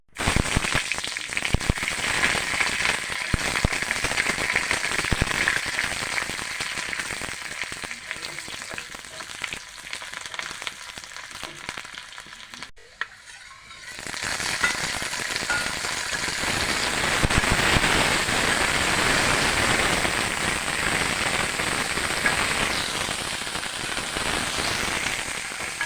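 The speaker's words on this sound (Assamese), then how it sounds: "লেটা ভাজিটো বনোৱা হৈছে।" Eri silkworm pupae fry in a pan with a dense, crackling sizzle that runs almost continuously, dipping briefly midway before resuming at full strength, with no voices over it.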